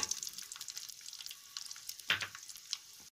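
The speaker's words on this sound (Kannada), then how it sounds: "ಜೀರಿಗೆ ಆಡ್ ಮಾಡ್ಕೊಳ್ಳಿ ಸ್ವಲ್ಪ, ಬೆಳ್ಳುಳ್ಳಿ 6 ರಿಂದ 7 ಪಾಯಿ ಹಾಕೊಂಡ್ಬಿಟ್ಟು ಫ್ರೈ ಮಾಡ್ಕೊಳ್ಳೋಣ" Cumin and six or seven garlic cloves frying in hot oil, a soft continuous crackle and sizzle close by with a brief louder spatter near the end, no voices.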